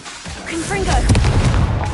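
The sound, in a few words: Confringo spell blast in Hogwarts Legacy video game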